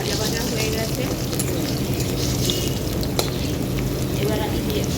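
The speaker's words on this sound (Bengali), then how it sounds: "আলুটা বেশ ভালো করে ভাজা ভাজা হয়ে গেছে।" Potatoes frying in a pan, a steady close sizzle of hot oil with occasional light clinks, constant and loud throughout.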